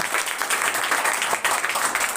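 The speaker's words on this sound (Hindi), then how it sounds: "और हमारे इन कैप्टनों के लिए एक बार जोरदार ताली मार दीजिए" Students and staff at a school competition event applaud the team captains, a dense burst of clapping from a crowd lasting the whole stretch at steady loudness.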